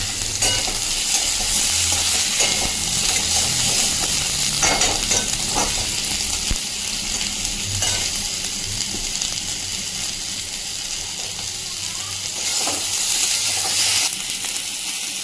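Potatoes fry in a pan with a loud, steady sizzle and hiss that lasts throughout, broken by occasional scrapes and clinks of a stirring spoon close by.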